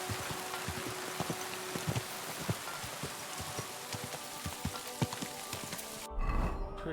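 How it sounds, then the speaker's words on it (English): Steady rain in the video game Kingdom Come Deliverance 2 patters with scattered sharp drops and taps, fairly quiet, then a brief low rumble near the end. "It's getting late. It's raining."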